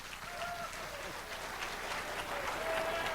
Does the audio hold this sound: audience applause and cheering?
yes